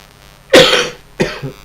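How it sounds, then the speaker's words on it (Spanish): Two coughs, a strong one and then a shorter one a moment later, close and loud, with no talking. "perdón por la tos"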